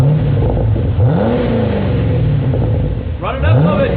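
A 2010 Camaro fitted with a Borla Aggressive exhaust revs up from idle in rising, falling engine sweeps, close and loud, with people talking over it.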